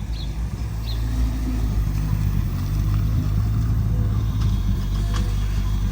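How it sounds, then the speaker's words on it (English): An all-wheel drive hatchback pulling up at a car meet, a steady close engine rumble that holds at a low idle-like drone throughout, with no speech. "Tony's pulling up as we speak."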